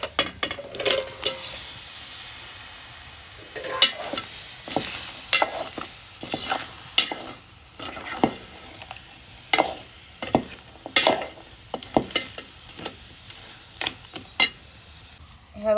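Crabs fry in a spiced coconut tempering in Konkan style, steady sizzling broken by repeated scraping and stirring strokes of a spoon against the pan, close and fairly loud.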